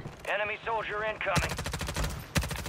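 Rapid automatic gunfire in the Call of Duty video game, a dense rattling burst that follows a spoken game voice line, loud and close, with one sharper shot near the end.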